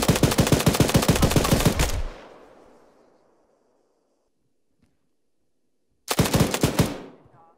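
Automatic gunfire in the combat game Arma 3 during close-quarters building fighting: a loud two-second burst of rapid shots fades into reverberant quiet, then a second sustained burst erupts about four seconds later.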